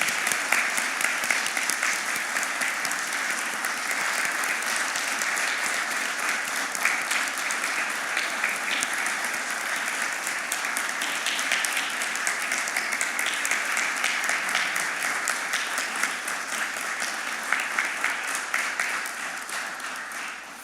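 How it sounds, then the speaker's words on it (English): A room of attendees at a Vietnam veterans pinning ceremony gives a long, steady round of applause, dense clapping holding constant for about twenty seconds before starting to taper at the end. "applaud all of these people."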